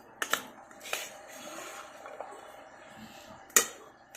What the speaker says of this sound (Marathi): थोडासा चमच्याने असं स्मॅश करून घेऊयात।